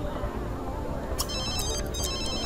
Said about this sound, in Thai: โทรศัพท์ เปลี่ยนลิงโทนได้ด้วยอะ